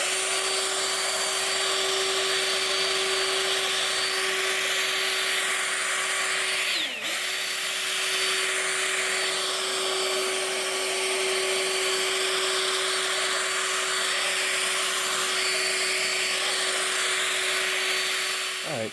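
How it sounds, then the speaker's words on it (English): A cordless, battery-powered handheld leaf blower blasts wood shavings with a loud, continuous whooshing roar and a steady motor whine, running nearly nonstop with a brief dip partway through. "this is a handheld leaf blower from Amazon with battery"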